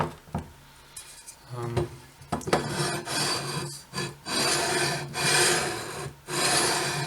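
Guitar frets are crowned with a file in repeated rasping strokes, first short and uneven, then longer steady scrapes separated by brief pauses, close up with no talking.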